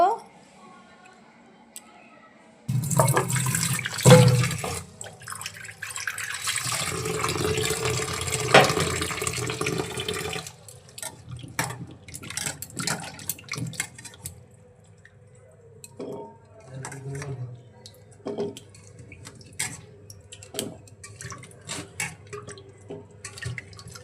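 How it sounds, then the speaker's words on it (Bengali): Cut taro pieces being washed in water, with a loud run of splashing and sloshing for several seconds, followed by softer scattered drips and clinks of wet pieces being handled. "সবগুলো কচু কাটা হয়ে গেছে এখন ধুয়ে নেব"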